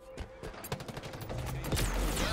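Halo Infinite multiplayer gunfire: rapid bursts and overlapping shots in a dense fusillade that keeps building, with a faint voice underneath.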